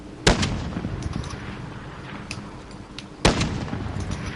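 Two sharp, loud gunshots in Call of Duty Warzone, each a booming crack followed by a rumbling tail, spaced about three seconds apart over a low background of game noise.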